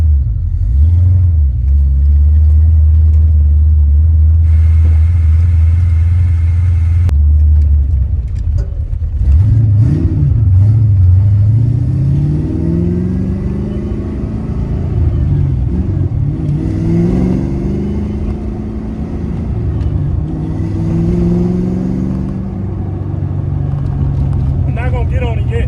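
A Toyota T5 cruising down a road, with steady low engine rumble and drivetrain whir that rises as it accelerates, tied to a scraping noise from the vehicle while driving.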